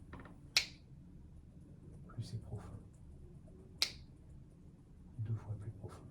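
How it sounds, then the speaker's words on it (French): A hypnotist snaps his fingers sharply twice, a few seconds apart, during a hypnosis session, with soft murmured speech between the crisp clicks. "au rythme de mes claquements de doigts"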